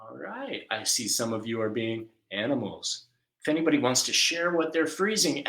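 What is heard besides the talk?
No everyday noise stands out behind the speech.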